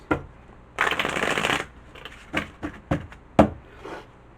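Tarot cards are shuffled by hand in a quick riffling burst, followed by several short snaps and taps as cards are cut and laid down, close and clear with no talking.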